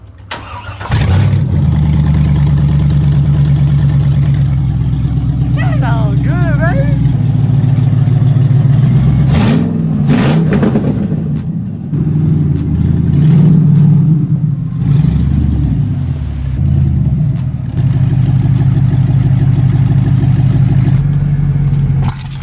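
A misfiring C5 Chevrolet Corvette engine cranks to life and revs loudly up close, settling into a throaty rumbling idle between revs while a person speaks briefly.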